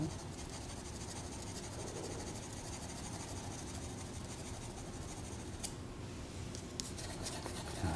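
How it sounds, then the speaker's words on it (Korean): Pencil shading on paper while laying down base tone for a brick drawing, a steady, faint, continuous scratchy rubbing with slight variations in stroke. "이렇게 색을 칠해 놓는 것도 효과적이죠"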